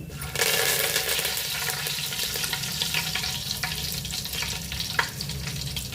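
Curry leaves and sliced onions hit hot oil for a biryani base, giving a loud, steady crackling sizzle with sharp pops, close and continuous throughout with no talking.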